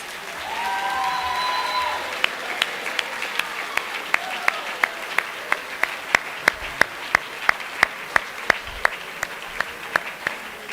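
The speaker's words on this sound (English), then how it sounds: "let's give our parents a gigantic round of applause for helping us." Applause at a high school spring band concert starts as broad clapping from the audience, then thins into a few loud, evenly spaced individual claps close by.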